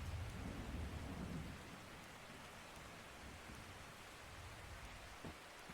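Rain in the 2001 adventure game The Mystery of the Druids pours as a continuous, wide hiss with a low rumble early on, quiet and uninterrupted, with no voices.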